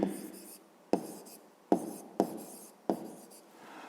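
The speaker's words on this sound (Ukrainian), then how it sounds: "Ну що ж, записуємо відповідь." Pen or pencil writing out a maths answer by hand on paper, heard as five short scratchy stroke bursts with brief pauses between them, close up and fairly quiet.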